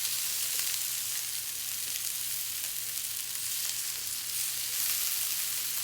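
Garlic, onion and peppers in a marinade sizzle steadily in a hot pan, a continuous close frying hiss with small crackles and no talking.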